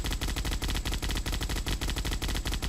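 An M-134 minigun fires one continuous burst of rapid, evenly spaced shots, very loud and close, lasting a few seconds with no voices.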